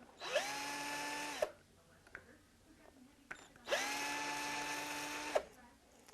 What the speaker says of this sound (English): I've got a cordless drill here to make this process a little faster.